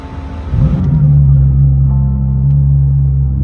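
A car engine starts up and settles into a loud, steady low rumble and drone close by, with a few faint voices.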